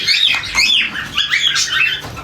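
Budgerigars chatter and squawk close by in a quick run of sharp, warbling chirps, loud and busy over a faint low hum.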